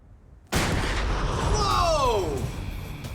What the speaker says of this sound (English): Control explosion, 5 pounds in 3, 2,